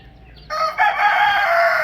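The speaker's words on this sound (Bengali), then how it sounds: "এই দেখুন মুরগিগুলো আমার দেশি মুরগি সব ঘোরাফেরা করছে।" A rooster crowing among free-roaming desi hens at a farmhouse, one loud, close, drawn-out crow that starts after a brief quiet stretch with faint clucks.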